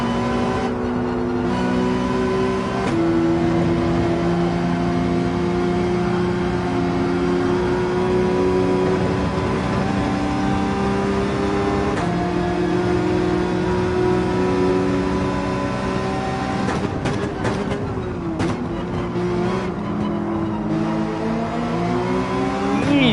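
Race car engine in Gran Turismo 7 on Dragon Trail, droning loud and steady throughout with shifting pitch as revs rise and fall, briefly dipping mid-run and climbing again near the end.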